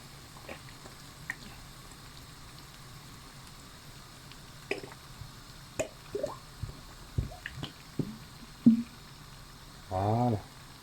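Liquid cream poured from a carton into a pan while cooking a cream chicken roll: sparse soft drips and small splats, then a brief denser gush near the end, faint and close.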